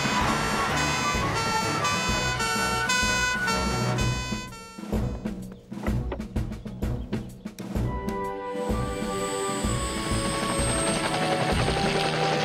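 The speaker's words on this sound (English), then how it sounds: "Might be an idea to get Tom Thomas out in his helicopter, sir." A cartoon helicopter flies overhead, its steady rotor drone heard first under a musical score, then through a busier stretch of rhythmic beats, and finally as a continuous loud hum with high whine.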